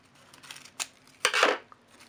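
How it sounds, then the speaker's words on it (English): Scissors snip string on a crepe paper ruffle, a short sharp cut followed by a louder rustling slice of paper, close and brief with no talking. "See, I cut the string"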